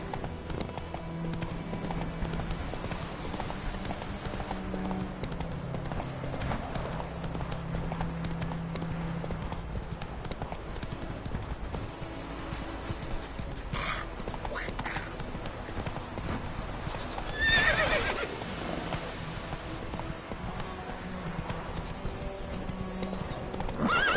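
A horse in The Witcher video game, with steady rhythmic clip-clop of hooves throughout and a loud neigh partway through, set against game ambience and music while voices talk.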